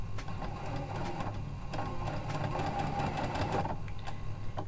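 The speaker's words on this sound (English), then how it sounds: "then we can start sewing again." A Janome sewing machine stitches with a 9mm lap-seam foot, running at a steady fast hum with rapid needle clatter, close and continuous throughout, with no one talking.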